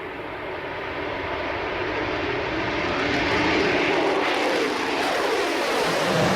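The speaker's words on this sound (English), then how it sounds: "they've got to again apply full power, but this time without the reheat. And then of course the aircraft wants to accelerate again" A jet aircraft runs at full power without reheat as it takes off again on a long training runway. A loud, steady broadband roar builds slightly over the seconds, and no one speaks.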